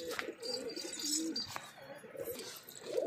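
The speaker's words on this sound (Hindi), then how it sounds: "ये है हमारे कबूतरों की पेटी। आप देखेंगे कबूतर तो हैरान हो जाओगे" Pigeons in a loft coo softly in overlapping low calls, with a few brighter chirps and rustling, close but quiet.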